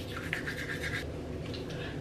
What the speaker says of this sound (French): je brosse mes dents